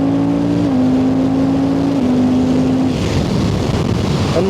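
A Suzuki GSX-8R motorcycle engine rises in pitch as the throttle is twisted open, then drops back in steps before a rushing, wind-like roar takes over, loud and close throughout.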